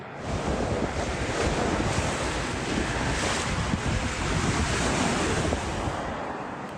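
A large dust devil several stories high whirls near a beach park in Lahaina, giving loud, continuous roaring wind buffeting that holds steady at close range.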